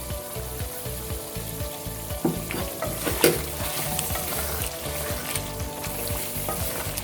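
Boneless chicken handi frying in separated oil as black pepper and kasuri methi are stirred in, a loud steady sizzle with rhythmic spoon scrapes against the pot, close up and without talk.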